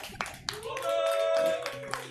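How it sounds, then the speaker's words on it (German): A crowd claps briefly for donations at a charity gaming stream, scattered hand claps heard faintly beneath a host talking. "Einen großen Applaus."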